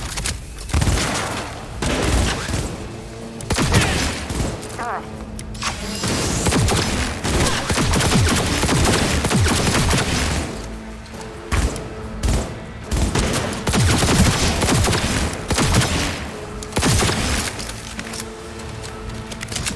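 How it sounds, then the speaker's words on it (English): A loud firefight in Cyberpunk 2077 brings dense, rapid gunfire bursts with sharp cracks and heavy impacts that keep rolling on with only brief pauses. "They're opening fire!"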